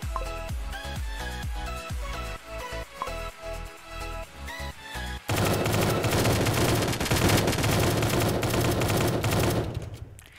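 Rapid gunfire from an enemy shooting outside in a zombie survival tycoon video game, sharp repeated shots at first, then a dense continuous roar of automatic fire and music-like noise, loud and without talk.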